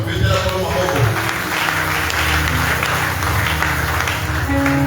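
A church congregation claps and cheers continuously, a dense steady wash of applause with voices mixed in throughout.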